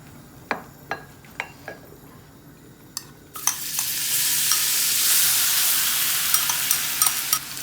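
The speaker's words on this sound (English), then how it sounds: "I'm going to fry first the Bittergourd skin, Karela the chilki" Bitter gourd (karela) skin is stirred in a pan. A few sharp utensil taps come first, then a loud, sustained sizzle starts abruptly as the skin hits the hot oil, with occasional scraping clicks.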